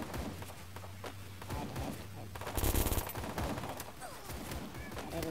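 Rapid bursts of gunfire from a gun in the video game Free Fire crackle through busy game sound, with one louder concentrated volley in the middle, all at a low overall level.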